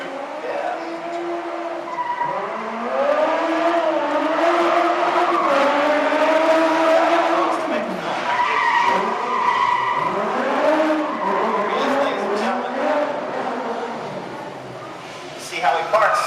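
An Opel Corsa stunt car drives in at a live theme-park stunt show, its tires squealing in long, wavering skids under an announcer's amplified voice. The engine revs, and crowd noise fills the background.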